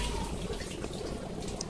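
Uncooked rice being rubbed and swished by hand in a pot of water to rinse it before cooking, a soft continuous watery sloshing close by that runs steadily through the clip.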